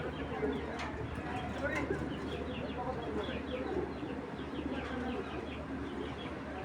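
Old-breed silver male pigeon cooing among other pigeons in a loft, soft repeated coos and occasional chirps under a steady, busy background.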